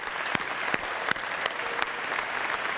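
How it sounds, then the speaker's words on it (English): Sustained applause from an award ceremony audience honouring the Impact Maker Award winners, a steady dense wash of clapping with a few sharper individual claps standing out, moderately distant and without talk. "please give them a big round of applause"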